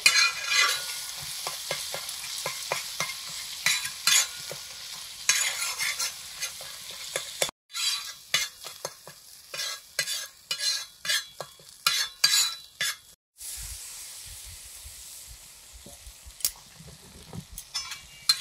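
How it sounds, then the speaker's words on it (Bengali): Spice masala being stir-fried in a pan for egg curry, a bright sizzle broken by rapid, repeated spatula scrapes and stirs in irregular bursts, close and fairly loud with no talk. "কি সুন্দর মশলাটা কষানো হয়ে যাচ্ছে"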